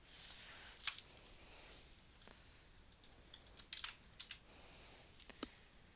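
Quiet, close typing on a computer keyboard comes in short irregular bursts of soft key clicks, with pauses between clusters and no voices.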